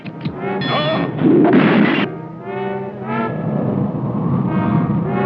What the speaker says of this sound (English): Should we launch a Snooper Rocket to investigate? Launch it at once.